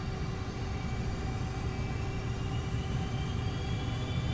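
A-10C Thunderbolt II jet engines powering up in Microsoft Flight Simulator, a steady, loud, dense roar with a deep low rumble and a faint high whine, holding constant throughout without any talk.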